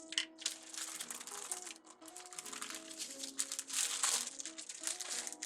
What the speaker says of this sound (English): Because I want to get as much plastic wrap out of this bag as I can.